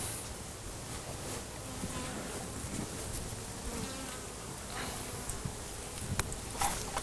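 Honeybees from a strong colony buzz in a dense, steady drone at an opened beehive in Dzūkija, Lithuania, with a few brief handling sounds.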